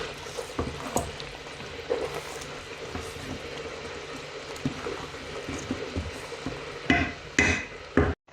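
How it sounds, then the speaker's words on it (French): Food seasoned with salt and cloves is stirred in a cooking pan, giving a steady soft scraping and sizzling bed with repeated spoon strokes and a few louder clatters toward the end, with no talk. "Et là, je vais remuer."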